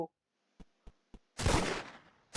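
Gunshots in the Roblox game That's Not My Neighbor: three short, evenly spaced shots, followed by a louder burst of noise and another blast at the end.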